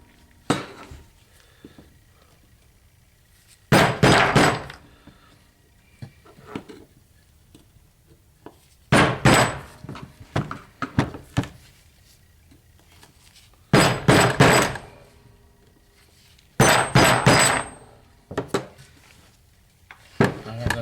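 Metal tool hitting around a seal to drive it out of an NP208 transfer case, five or six short clusters of sharp clanking knocks separated by quiet stretches, close by.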